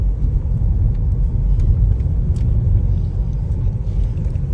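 A BMW X1 drives along with a steady, loud low-frequency road and engine rumble throughout, no talking, just continuous cabin drone with faint higher hiss.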